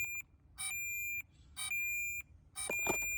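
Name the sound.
DJI Flip drone beeping locate sound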